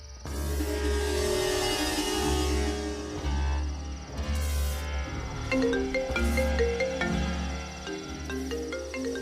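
A phone ringtone from a Hindi horror TV serial plays steadily for several seconds, a repeating electronic melody over a low hum, loud and close, with no talking.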